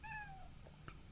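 A cat gives a single short meow, faint and slightly distant, fading out over half a second above a low steady hum, followed by a few small soft noises.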